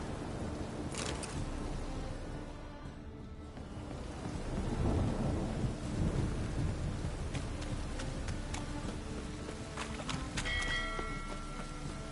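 Steady rain with rolling thunder fills a Witcher 3 video game thunderstorm, a loud swell of rumble building through the middle and easing off, with no talking.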